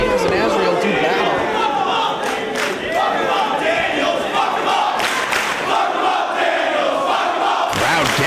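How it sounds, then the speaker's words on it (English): A wrestling crowd in New York City roars and chants steadily for Christopher Daniels during an indoor match, a dense, continuous wall of many voices with a commentator talking over it. "Crowd getting behind Christopher Daniels here in New York City."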